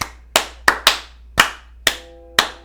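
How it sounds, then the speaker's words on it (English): Seven separate hand claps ring out alone in an uneven rhythm, each a sharp, close, loud smack with a short decay, spaced a fraction of a second apart. "Yay. Please clap."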